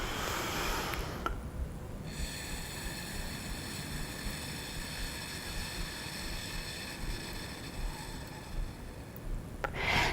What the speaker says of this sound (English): And again, inhale.